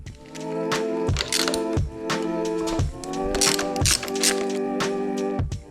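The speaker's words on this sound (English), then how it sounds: "We can't get to this one with a wrench, so we're going to use a socket." A socket ratchet loosens the clutch perch nut on a 2021 Yamaha MT-09, with repeated close metallic clicking bursts in uneven strokes and tonal clinks from the tool over about five seconds, no speech.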